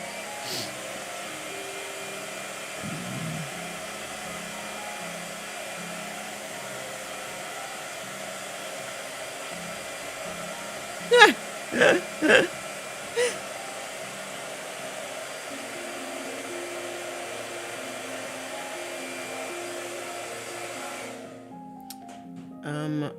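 A hair dryer blows with a constant whirring hiss for most of the clip, interrupted by a few sharp clicks before it cuts off near the end.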